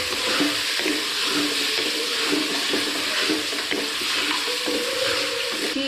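Spices with ground coriander and turmeric roasting in a pan, a loud continuous bright sizzle that stays even throughout, close by with faint stirring clinks and no talk.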